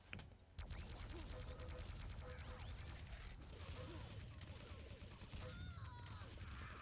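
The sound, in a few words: plasma gun firing in video game Quake 3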